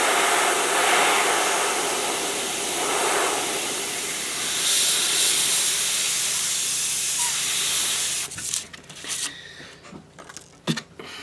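A steady airy hiss of paint spray from an Avanti airbrush runs continuously for about eight seconds, then cuts off into scattered clicks and small handling noises.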